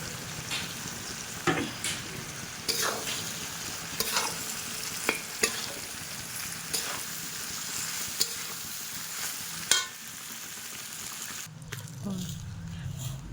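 Fried rice is stirred in a hot pan with spices, ghee and sugar, giving steady close sizzling and frying hiss broken by sharp scrapes of the spoon against the pan.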